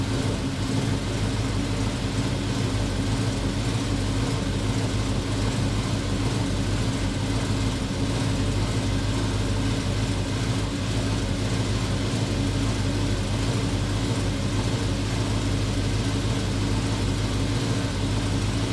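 A car's V8 engine idles after a manifold repair, a steady, loud, continuous rumble with an even tone and no talking over it.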